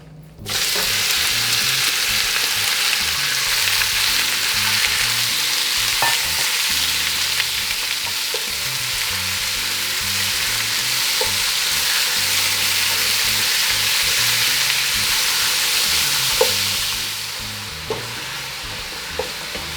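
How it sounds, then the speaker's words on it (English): Beef pieces hit a very hot pan for a stir-fry, setting off a loud, dense, continuous sizzle that holds steady close up, with a few faint clinks near the end and no talking. "I'm gonna put all this beef in here."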